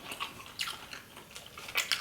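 Someone bites and chews crunchy pizza crust from a meat lovers pizza, giving several close, crisp crunches in irregular bursts, fairly quiet, with no talking.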